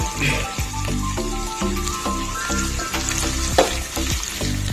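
Onions fry in hot oil with a pinch of asafoetida for a chutney, a steady, dense sizzle and crackle, punctuated by light clinks of a spoon stirring the pan.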